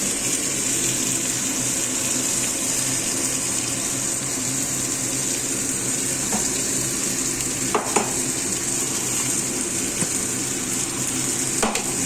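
Ground spices frying in a pan for a tadka, a continuous close sizzling hiss with faint stirring scrapes and a couple of sharp clinks, no voices.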